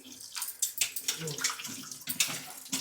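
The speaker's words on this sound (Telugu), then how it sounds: "ఇలా ట్యాప్ పెట్టుకుని." Tap water runs and splashes close by while ridge gourd peels are washed under it, giving an uneven, bubbling gush that rises and falls with handling.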